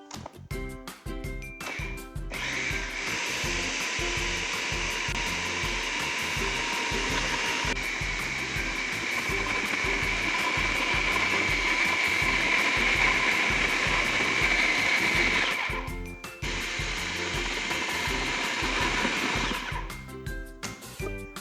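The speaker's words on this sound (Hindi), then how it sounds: "अब मैं इसको फिर 2 मिनट के लिए ग्राइंड करूँगी" Mixer grinder chopping a raw mutton kabab mixture with a raw egg, a loud steady motor whir running continuously for about fifteen seconds, then stopping and briefly restarting.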